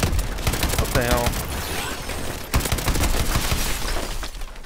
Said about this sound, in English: I was trying to shoot that guy next to you